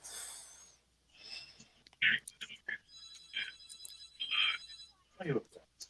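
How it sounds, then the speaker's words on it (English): A telephone rings in short repeated electronic bursts at moderate volume, with people talking quietly over and between the rings. "That's the phone."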